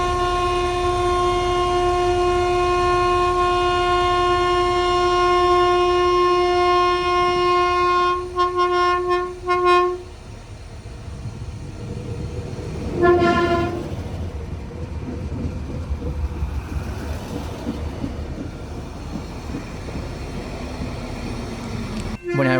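A Sprinter commuter train pulls out of Buena Creek Station in San Marcos, its horn sounding as a loud, steady blast for several seconds before cutting off, followed by a brief second toot and the fading rumble of the departing train.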